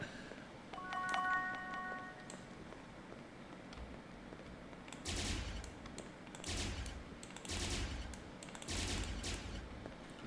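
Bursts of gunfire ring out in a horror video game set in a haunted dental clinic, several rapid volleys separated by short pauses, loud and close over faint game ambience.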